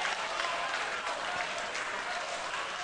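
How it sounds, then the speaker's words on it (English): A crowd at an outdoor cardboard canoe race cheers and applauds a slow racer, a steady wash of clapping and cheering that is fairly loud and continuous throughout. "he's getting a cheer from the crowd."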